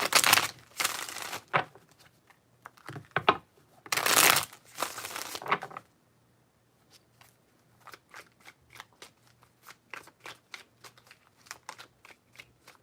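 Tarot cards being shuffled at close range: a run of loud riffling bursts at first, then a long stretch of lighter, scattered card flicks and taps, with no talking.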